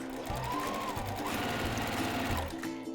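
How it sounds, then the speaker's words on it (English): A sewing machine stitches a quarter-inch seam while attaching quilt binding. It runs as a close, continuous rhythmic whirr for the full three seconds. "we're just going to sew a good 1/4 inch seam on here"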